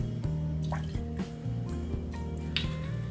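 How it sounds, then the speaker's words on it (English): Dom Benedictine liqueur poured into a Scotch cocktail, with soft liquid drips and a trickling fill heard briefly over background music. "I'm going to pour in a 1/2 ounce of Dom Benedictine."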